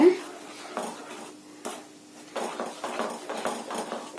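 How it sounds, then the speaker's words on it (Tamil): A spoon clinks and scrapes steadily against a pan while a sweet mixture is stirred without pause, a close, repetitive metallic rattle, with some talk faintly beneath it. "இப்படியே நம்ம நல்லா கலந்து கொடுத்துட்டே இருக்கணும்."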